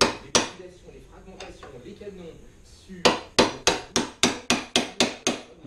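Sharp metallic hammer taps seat bearing cups on a Yamaha YZ125 motorcycle: one or two isolated strikes, then a steady run of about nine evenly spaced blows close by.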